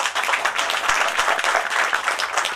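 A press-meet audience applauds for the producer, a dense, steady wash of many hands clapping close by, continuous and alone without talk.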